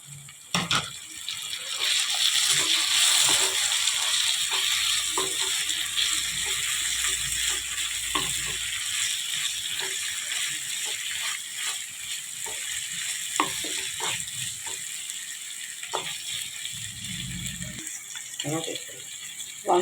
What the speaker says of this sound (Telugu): ఆయిల్ పెట్టి పక్కన పెట్టుకున్న ఈ రొయ్యలు అనేది వేసేద్దామండి.